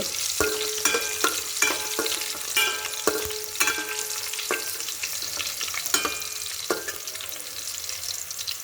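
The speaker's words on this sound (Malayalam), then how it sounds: "എണ്ണടുപ്പത്ത് വെച്ചിട്ട് കടുക് പൊട്ടിച്ചിട്ട് അതിൽ കാന്താരി മുളക് ഇട്ടാൽ" Bird's eye chillies and mustard seeds fry in hot oil, giving a continuous sizzle broken by sharp pops and crackles at irregular intervals, close by with no speech.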